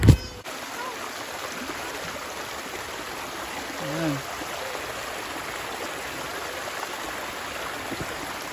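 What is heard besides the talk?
river water flowing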